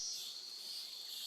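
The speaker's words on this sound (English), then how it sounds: "you only hear cicadas singing hard in a very bird-promising habitat" Dense, steady buzzing of cicadas in the Amazon jungle of Brazil, loud and continuous, with no other sounds breaking through.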